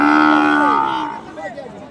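A Sahiwal cow at a livestock market gives a single loud, drawn-out moo close by, followed by faint background crowd noise.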